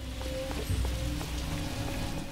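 Rain in the video game L.A. Noire patters steadily under a hum and a few soft thuds as a character jogs up outdoor stairs, with no one speaking.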